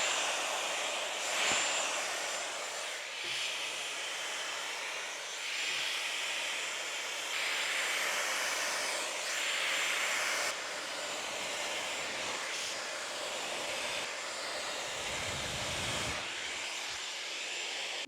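A Dyson Airwrap hair styler blows air in a continuous, breathy roar that whooshes up and down as it is moved through hair. There are brief dips and one abrupt shift partway through, and no one speaks.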